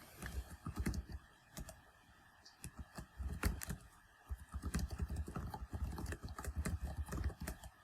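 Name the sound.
typing account information on a keyboard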